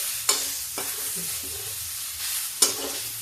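Cabbage and peas sizzle in a pan as a spicy vegetable dish cooks, a steady hiss broken by three sharp spoon scrapes against the pan, close and alone.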